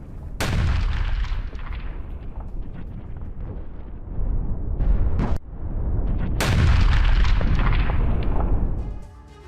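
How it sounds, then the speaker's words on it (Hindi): Heavy booming explosions from a bombardment of Al Hudaydah, Yemen, erupt repeatedly, deep and rumbling, with long rolling echoes between blasts and a dense roar of detonations. "कैसे चारों तरफ जोरदार विस्फोट होता है, धमाका होता है।"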